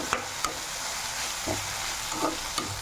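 Vegetables for paneer momos are lightly sautéed in a pan: an even sizzle with several distinct knocks and scrapes of a spatula stirring, close and moderately loud, with no voices.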